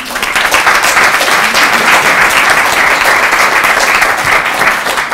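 An audience applauds to welcome a lecturer at a NetVUE lecture, with steady, dense clapping that stays loud and even throughout without a break.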